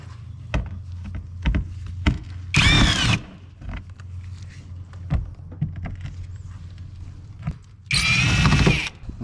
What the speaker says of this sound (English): we're going to go ahead and remove these torque bolts right here.